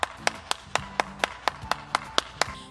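Clear, evenly spaced hand claps sound about four times per second in a steady rhythm during an online children's church program, with no speech over them.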